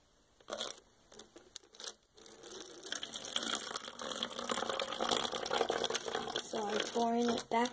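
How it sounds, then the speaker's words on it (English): Water is poured slowly back into a water bottle while making DIY bubble lights in a jar, giving a steady trickling and splashing pour of several seconds that follows some brief handling clatter and rises to a fuller gurgle near the end. "pouring it back into the water bottle."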